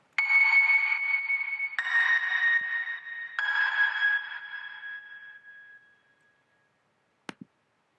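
Three sustained grand piano notes or chords from a stock patch, each struck and held with the reverb turned fully up, ringing long into a fading ambient tail, then two faint clicks.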